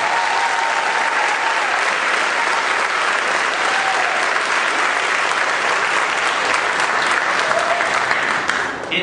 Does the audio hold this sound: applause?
yes